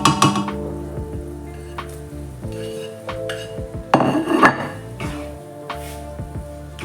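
Ham goes into a pan of softened onion with scattered metallic clinks and scrapes of a utensil against the pan over a faint sizzle, in irregular bursts and no talking.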